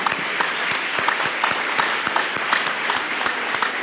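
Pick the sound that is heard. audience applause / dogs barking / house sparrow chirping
audience applause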